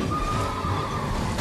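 A horse neighs loudly in Elden Ring, one drawn-out whinny close by and alone, held steadily for more than a second with no talk over it.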